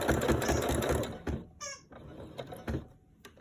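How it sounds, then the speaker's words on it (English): A sewing machine runs a backup stitch in a quick rhythmic burst, then stops; a few short mechanical clicks and a brief squeak follow. "I'm going to do a backup stitch now"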